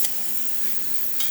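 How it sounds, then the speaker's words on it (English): A Zacconi espresso machine runs under pressure, giving a steady, fairly quiet hiss with brief louder puffs near the start and end, with no voices. "Zacconi espresso machine working once again"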